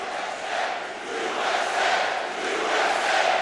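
Crowd noise from a Keep America Great rally for President Trump in Wildwood, New Jersey, a loud sustained roar of cheers and shouting that swells and dips, with no clear speech over it.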